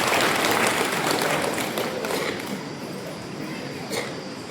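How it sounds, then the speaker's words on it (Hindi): Loud applause fills a church during a holy confirmation question-and-answer gathering, dense clapping from a crowd that stays strong and slowly eases off over a few seconds. "इसके लिए हम लोग जोरदार तालियां बजाएंगे।"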